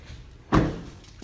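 The rear 60-40 bench seat of a 2018 GMC 2500 pickup folds up with a single solid thump that fades quickly, followed by a faint click moments later.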